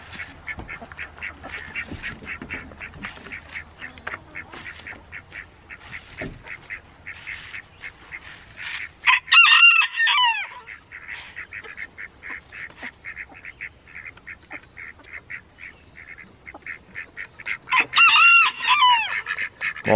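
Ducks and geese at a rural homestead, with loud bursts of quacking and honking twice, near and clear, against a quieter backdrop of scattered bird calls.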